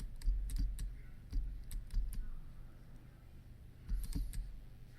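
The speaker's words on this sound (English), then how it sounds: "you just hit the number 1 on your keyboard" Computer keyboard keys tapped by a blind user working Audacity hotkeys, a handful of sharp close clicks in uneven clusters over a quiet low background hum, no speech.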